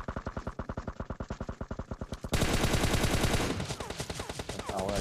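Automatic gunfire in PUBG Mobile, a rapid run of evenly spaced shots that gives way to a denser, louder burst of overlapping fire, then sporadic shots at the end.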